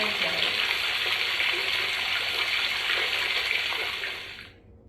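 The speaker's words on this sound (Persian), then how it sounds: "رودخونه" Steady rushing water from a river, presented as a sound-guessing challenge item, a continuous broadband wash that stays loud and even before cutting off abruptly near the end.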